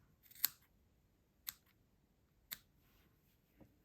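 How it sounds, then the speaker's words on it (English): Scissors snip folded paper to form stamens for a paper flower, with four faint, sharp cuts close by, spaced about a second apart in a quiet room. "fold it in half where I put that in, and cut all of these."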